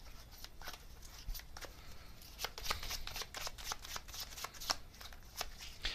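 Tarot cards being shuffled by hand, a close, soft riffling with rapid papery flicks and taps over several seconds, no talking.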